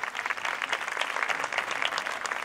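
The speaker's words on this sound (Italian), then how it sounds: "Un bel applauso." An audience at an outdoor poetry evening in a garden applauds for the next poet, a brief, moderately loud burst of steady clapping.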